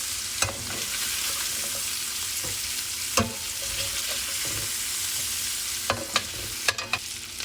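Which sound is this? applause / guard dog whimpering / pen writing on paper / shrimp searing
shrimp searing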